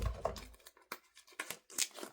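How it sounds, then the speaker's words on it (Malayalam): Packaging for a newly delivered microphone being torn and crinkled open in a series of short, close rips and rustles, no talking. "നമുക്കിനി ഇത് അൺബോക്സ് ചെയ്യാം കേട്ടോ."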